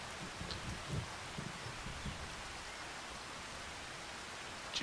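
Steady rain in the farming video game Farming Simulator 25, a soft continuous hiss with scattered faint patter and a few low bumps early on, even and unbroken throughout.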